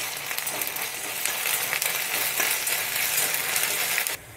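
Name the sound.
ginger garlic paste frying in a pan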